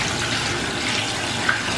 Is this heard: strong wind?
no